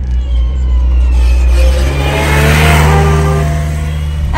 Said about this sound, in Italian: La macchina c'è.